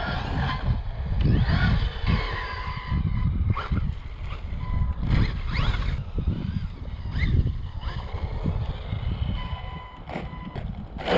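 A JLB Racing Cheetah RC car, model JLB21101, runs at full throttle outdoors with a buzzing electric motor whine that surges and drops in repeated bursts over crunching ground noise and wind.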